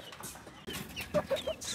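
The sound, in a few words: chickens clucking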